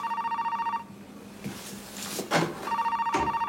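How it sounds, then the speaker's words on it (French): An office telephone rings in trilling electronic bursts at the start and again near the end, with a brief pause and a few faint movement sounds in between, fairly close and clear. "Monsieur Neville au téléphone"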